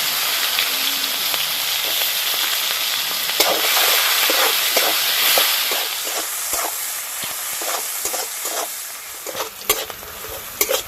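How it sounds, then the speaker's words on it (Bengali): Chopped onions fry in hot oil in a pan for a Bengali fish curry, a continuous close sizzle broken by repeated scraping stirs, with no voices. "পেঁয়াজ ভালো করে ভেজে নিয়েছি"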